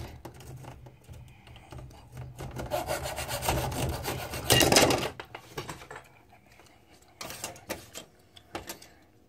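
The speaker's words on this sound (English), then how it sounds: "next one I'm going to cut with this hacksaw. It's made for cutting metal." A metal-cutting hacksaw sawing through wooden popsicle sticks, close and raspy with quick irregular strokes that build to a louder burst, then a pause and a few scattered short scrapes.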